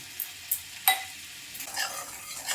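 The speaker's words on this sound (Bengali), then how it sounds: "কাশ্মীরি লঙ্কার গুঁড়োটা একটু তেলের মধ্যে কষিয়ে নিচ্ছি সামান্য একটু চিনি অ্যাড করে দিচ্ছি" Kashmiri chili powder cooks in oil with a pinch of sugar in a pan, a quiet sizzle with a few light clinks and scrapes of a spoon against the pan, no voices.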